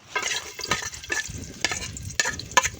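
Garlic sizzling in a pan while being stirred, an uneven crackle with scraping clicks at close range, no talking.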